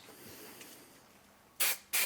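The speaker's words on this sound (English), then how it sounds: "It's cut to size and spray glued in place." Two short, loud bursts of spray adhesive hissing from a can onto camper van insulation, close up, following a quiet stretch of room tone.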